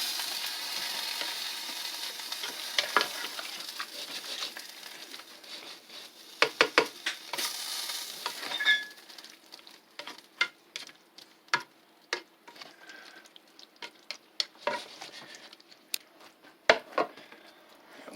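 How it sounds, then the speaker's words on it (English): Vegetables tossed in lo mein sauce in a hot pan give a soft, steady sizzle punctuated by sharp scattered clicks and taps from stirring, quiet and close with no one talking. "Toss the veggies around in that wonderful sauce."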